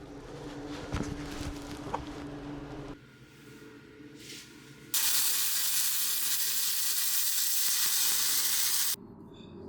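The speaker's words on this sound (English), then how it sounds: "This is about as good a weld as I've ever done." A MIG welder runs a bead on steel flat bar for a truck rack build, a loud, even crackling hiss lasting about four seconds that cuts off abruptly after quieter shop noise.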